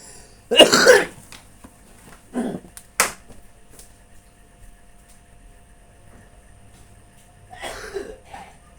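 Several harsh coughs, one loud fit at the start, then a couple of shorter ones, and another after a quiet pause.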